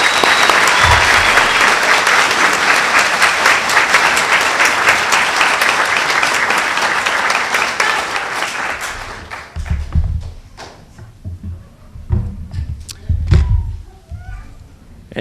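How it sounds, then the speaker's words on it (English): A graduation ceremony audience bursts into sustained loud applause for the graduates, dense clapping that fades out after about eight seconds into scattered claps and low thumps. "Let's give them a round of applause."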